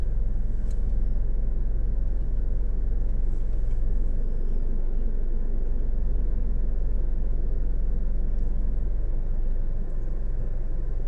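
A Nissan engine running in drive with the A/C on, giving a continuous low rumble and steady idle drone throughout, with a faint vibrating undertone and no talk.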